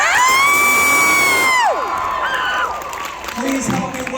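A comic con crowd at a My Hero Academia panel cheers and whoops loudly, with a high shouted voice over the roar before it dips into scattered murmurs and yells.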